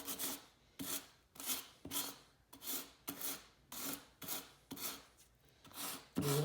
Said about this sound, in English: I'm going to give it a quick light little sanding just to smooth everything out